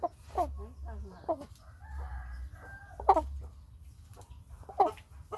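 Chicks peep and chickens call in short bursts, a few sharp squawks standing out over quiet gaps and low background rumble.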